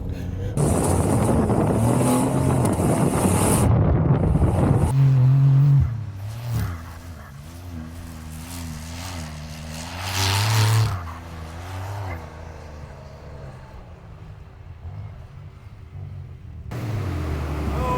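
A Porsche 911 Dakar's powerful engine roars and revs while driving off-road on sand, rising and falling in pitch with wind buffeting the microphone, loud and close throughout.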